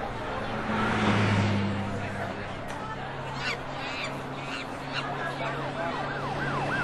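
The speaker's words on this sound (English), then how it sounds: "Cars whizzed this way and that." Radio-show effect of busy city traffic: cars whizz past, horns toot and a siren wails through the dense, steady roar, with a voice talking over part of it.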